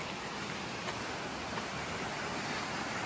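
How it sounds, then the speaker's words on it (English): A forest stream near a waterfall in Costa Rica rushes in a steady broadband wash, a continuous close hiss of flowing water with no other sounds. "And this is a beautiful stream."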